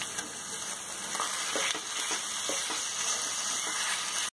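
Minced chicken frying in hot oil with chopped onion and ginger garlic paste, a steady close sizzle with occasional stirring scrapes, loud and continuous with no talk.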